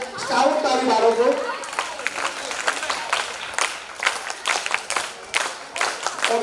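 An audience at a school scout event breaks into applause for parents, a dense burst of clapping that swells at the start and continues in patchy rounds, with a voice talking over the opening moments.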